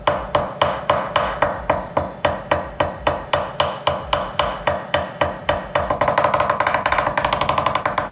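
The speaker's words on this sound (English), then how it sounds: "Whenever you're hammering tape down like this on a blade, you've got to make sure your hammer has carbide tips on it." A carbide-tipped hammer taps tape down onto a knife blade with a long, even run of close, sharp strikes, about three per second, quickening slightly near the end. No voices.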